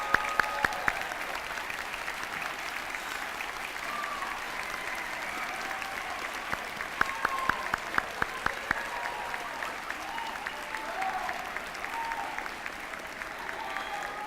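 A high school graduation crowd in an auditorium claps for standing parents, guardians and grandparents, a sustained even wave of applause with scattered sharper claps close by, lasting throughout.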